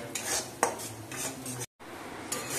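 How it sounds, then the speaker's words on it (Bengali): Spices with green chili are fried in oil in a pan, a spatula scraping and clinking against the metal in close, uneven strokes over a soft sizzle, with one brief break in the sound. "মশলাগুলো এবার ভালো করে কষাবো।"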